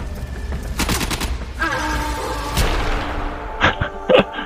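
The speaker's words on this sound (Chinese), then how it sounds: "开枪了！" Gunfire in the video game Warframe: several sharp broadband shots and bursts, some close together in quick volleys, with a final loud pair of shots near the end over a low rumbling game background.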